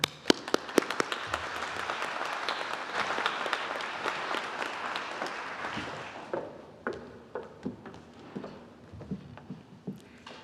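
An audience at a graduation ceremony breaks into loud, sustained applause to welcome a speaker, the dense clapping thinning into scattered individual claps toward the end.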